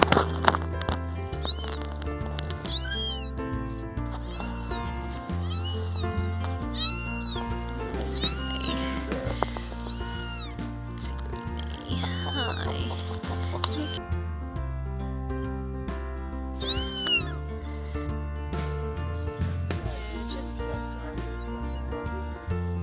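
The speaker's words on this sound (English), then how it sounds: "They're pretty noisy and hungry, so we're going to get them back to the centre and fed up first." Two orphaned hungry kittens meowing, repeated high, insistent cries in frequent bursts, close and fairly loud, over faint background noise.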